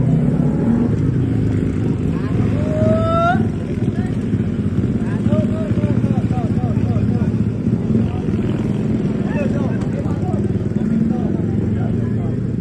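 A Suzuki Hayabusa motorcycle rides along with a steady engine drone and a few rising revs, loud and near, while people talk over it.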